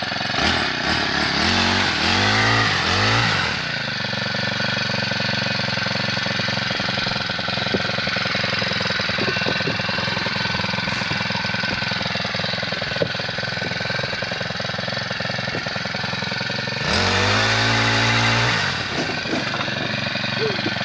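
A gas-powered saw used for tree trimming runs loud and continuously after starting, revving up sharply at the beginning, holding a steady buzzing roar, then revving hard again near the end.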